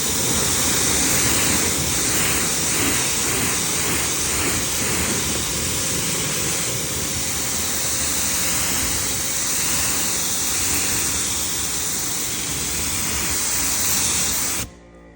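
A steady, loud hiss of pressurized water spraying continuously for several seconds as a car is rinsed, then cutting off abruptly at the end.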